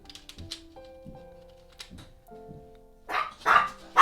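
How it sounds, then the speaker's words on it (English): A dog barks several times indoors, a few sharp barks in the latter part, fairly near, over quiet background with soft tones and no talk. "Dawn just came stomping in, so Toshi went barking away"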